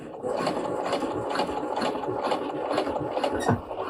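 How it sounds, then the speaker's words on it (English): A sewing machine stitching a bulky fur mitten seam, running in a steady continuous whir, close and fairly loud throughout. "You want to sew right up to that fold that's underneath, but not over it. And then back stitch."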